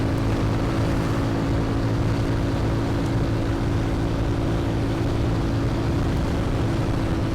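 Motorcycle ridden at full throttle along a smooth highway between Pinrang and Makassar, a steady loud engine drone with rushing wind noise holding constant throughout, no speech.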